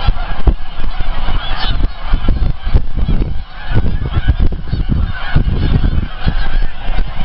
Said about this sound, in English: there are literally thousands of Canada geese here